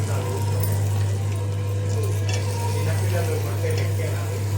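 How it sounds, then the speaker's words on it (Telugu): Tomatoes hitting a hot pan in a Telugu home-style dish, giving a steady, close sizzle and frying hiss that runs continuously under a constant low hum. "ఇప్పుడు టమాటాలు వేసుకుందాం."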